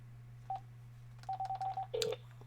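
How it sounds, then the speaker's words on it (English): A phone keypad sends DTMF dialing tones: one short beep, then a quick run of five evenly spaced beeps and a longer final tone, clear and close over a steady low hum. "Make a little phone call here."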